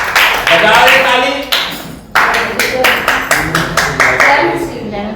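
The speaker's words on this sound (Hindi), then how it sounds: "बजा दे ताली।" Hands clap together at a Sunday church service as the congregation applauds in a quick run of sharp, close claps over a continuous murmur of voices.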